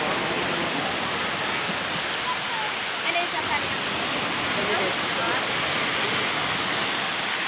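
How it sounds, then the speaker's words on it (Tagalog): A waterfall rushes in a steady, dense roar of falling water, constant and fairly close, with a few faint voices mixed in. "Yan ang tinatawag na falls."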